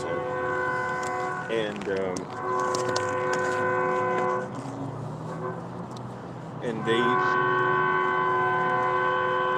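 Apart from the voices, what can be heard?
train passing with horn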